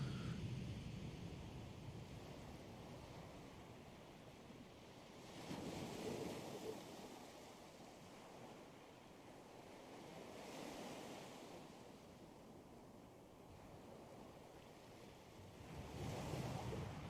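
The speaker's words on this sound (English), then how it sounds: "Just listen to the waves." Ocean waves breaking on a beach, rolling in as slow, repeated surges that swell and fade every few seconds, with wind buffeting the microphone throughout.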